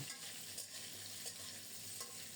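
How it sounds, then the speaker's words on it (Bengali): Nigella seeds and a green chili sizzle in hot oil, making a steady frying hiss. Faint stirring scrapes rise through it now and then, and no one speaks. "তেল গরম হলে কালো জিরা পরনে দিলাম তেলের উপর একটা কাঁচামরিচ দেব"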